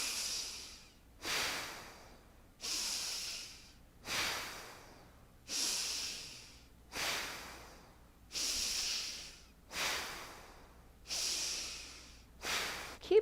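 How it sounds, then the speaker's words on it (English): Forceful short yoga exhalations, eight sharp breathy bursts in a steady rhythm about every one and a half seconds, close and clear with quiet pauses between. "we're going to go into a more forceful breath"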